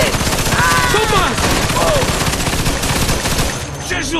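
Rapid machine gun fire rattles in dense, continuous bursts during a wartime battle in Mafia 2, loud and close, with shouted voices and cries rising over the gunfire.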